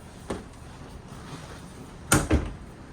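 Cabinet drawers in a 2025 Forest River Salem Hemisphere Elite 36FL fifth-wheel RV are opened and shut, with one soft knock followed later by two quick, sharper thuds in a quiet interior.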